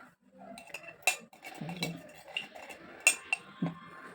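A metal spoon stirs coffee powder and yogurt in a bowl, giving faint, irregular clinks and scrapes against the sides with short quiet gaps between strokes.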